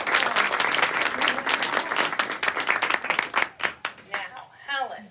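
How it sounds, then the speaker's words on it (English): An audience at a small fashion style show applauds, with dense clapping that thins into scattered claps and then fades, and voices come in at the close. "So we got to give her a round of applause."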